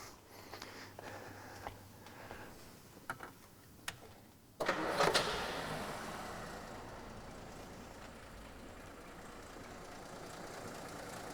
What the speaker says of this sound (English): So I'm going to start this engine up now.